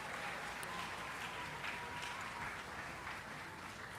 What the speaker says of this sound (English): Could we have another round of applause for them?